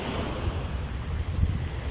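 Sea waves wash steadily onto a beach, a continuous close surf hiss with soft rolling swells and some wind buffeting the microphone.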